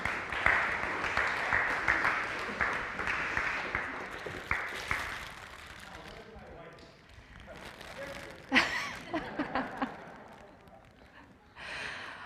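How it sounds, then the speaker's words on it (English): A Lutheran church congregation breaks into applause during a service, dense clapping filling the first few seconds before thinning out, with voices talking over and after it. "We can clap."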